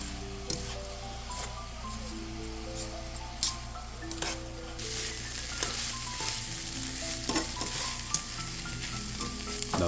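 Peppers and onion sizzle and fry in an oiled pan for hot dog toppings, with steady crackling throughout and occasional scrapes and clinks as they are stirred around.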